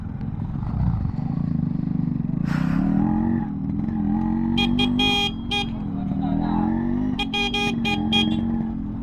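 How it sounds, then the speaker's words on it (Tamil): Busy road traffic with many cars and motorcycles passing close by during a Shivaratri bike ride in Ranipet district, with a steady engine rumble, several short horn toots and a voice speaking over it. "வண்டி, நிறைய வண்டி வந்திருக்கு."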